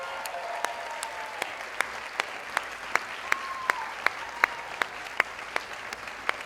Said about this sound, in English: can we just please give them the biggest round of applause?